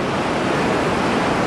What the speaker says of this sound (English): It's like wave after wave after wave.